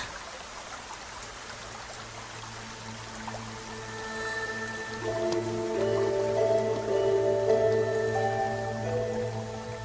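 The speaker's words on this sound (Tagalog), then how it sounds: "Malakas ang ulan." Rain pours and trickles steadily, watery and dense throughout, while a low hum and faint tonal drones rise beneath it midway, with no talking.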